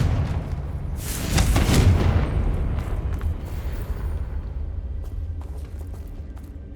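A Confringo explosion spell in Hogwarts Legacy bursts with a loud, booming blast that rolls out into a long, fading rumble, with no talk over it.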